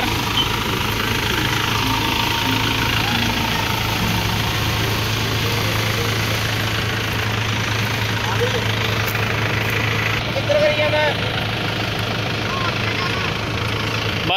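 A Massey Ferguson 2635 4x4 70 HP tractor engine runs steadily up close with a constant low, throbbing drone and slight knocking, holding the same loud level throughout.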